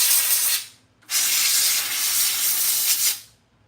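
Two bursts of hissing aerosol from a spray can of cleaner aimed at used slot cars: a short spray of about half a second, a brief pause, then a long steady spray of about two seconds, close and fairly loud.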